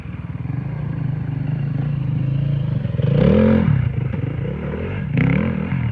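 Dirt motorcycle engine revving loudly and steadily up close on an extreme trial course in Garbes, with a rising rev surge midway and clattering over obstacles.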